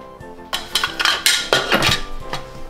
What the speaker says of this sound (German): Und als erstes kommt der Zucker in den Mixtopf und der wird pulverisiert.